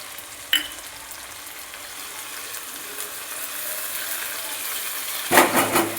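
Onion and tomato fry in a pan with a steady soft sizzle, broken by a few sharp scraping clatters as the mixture is stirred, one early and a louder burst at the end.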